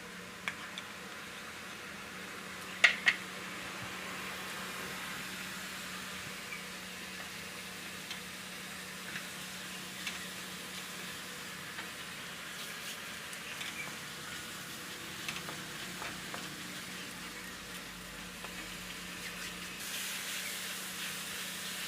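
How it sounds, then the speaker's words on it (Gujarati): Garlic fries in ghee and butter in a pan, giving a faint, steady sizzling hiss that runs evenly throughout, with a couple of small clicks early on. "લસણને આમાં જ આપણે ઘીમાં માખણમાં જ આપણે ફ્રાય કરવાનું છે"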